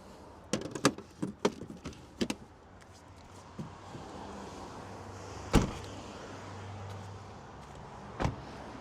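A series of clicks, clunks and thumps as seats fold down inside a seven-seat compact van, with a low motor whir in the middle and a couple of heavier knocks later.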